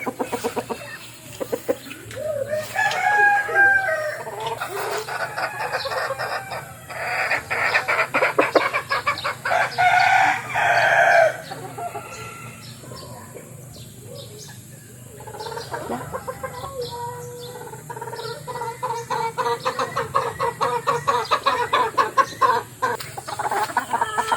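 Chickens cluck and a rooster calls in bursts across a noisy backyard, with scattered bird sounds and faint background activity.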